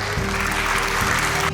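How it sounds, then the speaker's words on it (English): An audience claps steadily at a wellness and motivational talk, producing a dense, even wash of applause that holds for a moment and then cuts off. "give a big round of applause for it."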